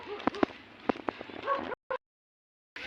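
A dog barks several sharp times at a distance on a quiet, undeveloped subdivision lot, then falls silent. A person murmurs faintly in the background.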